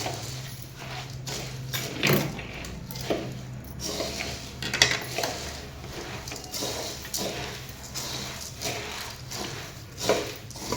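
Puffed rice for lemon bhadang being stirred and sautéed in a pan over a low flame, with repeated scraping and clinking of a spoon against the metal in an irregular rhythm, close and moderately loud, with no talking.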